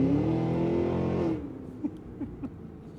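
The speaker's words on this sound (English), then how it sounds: "if you put your foot all the way to the floor, the truck will get up and move" The 682-hp 2026 Cadillac Escalade V engine in sport mode roars under hard acceleration, its pitch climbing for over a second, then cuts to a lower rumble with a few short pops after the shift; close and loud, without talk.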